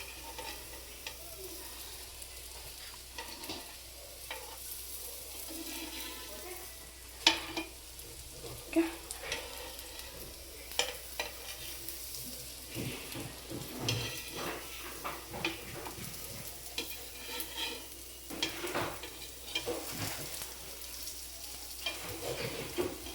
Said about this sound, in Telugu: మనం కొంచెం ఒక సైడ్ రోస్ట్ కాగానే ఇంకో సైడ్ ఇలా టర్న్ చేసేసుకోవాలి